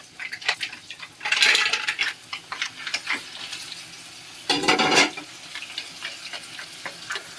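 Mussels tipped into a hot pan burst into a loud sizzle, then stirring scrapes and clinks of utensil on metal follow, with a second strong burst of frying a few seconds later.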